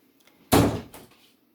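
A door closes with one sharp, close thud as a child leaves the room indoors, followed by a softer second knock as it settles, then quiet.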